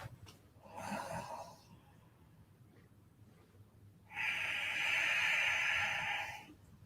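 Two breaths in a live-streamed yoga class, a shorter breathy puff followed after a pause by a long, full exhale that rushes out loudly for over two seconds, close and alone without talk.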